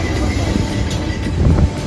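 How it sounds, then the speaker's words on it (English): Lisbon's yellow tram 28 rolling on its rails, a dense steady rumble with metallic rattles and soft clicks, close and continuous. "Let's ride tram 28."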